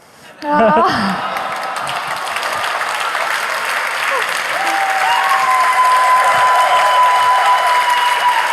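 Sustained audience applause fills the hall at a startup pitch competition grand final, rising sharply and holding steady and dense throughout, with a faint tone running beneath it.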